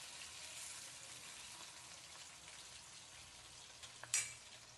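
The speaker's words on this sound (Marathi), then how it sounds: "आणि खरपूस होईपर्यंत तळून घ्यायचं" Chicken 65 pieces fry in hot oil until crisp, a soft continuous sizzle and crackle close by, with a brief clink of a utensil near the end.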